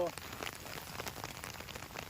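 Steady rain patters on a surface at a farm in Junagadh district, Gujarat, a dense hiss of drops throughout with no clear gaps.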